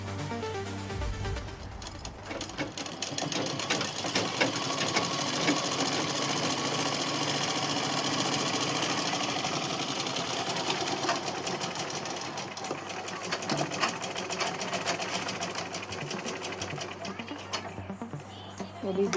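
A sewing machine stitches a coat suit in a long continuous run, whirring steadily close by, with talk in the background.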